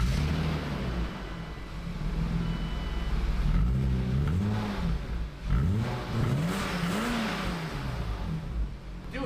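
A BMW E30 engine idles and then revs up several times through a new exhaust, the pitch rising and falling in repeated swells, loud and close.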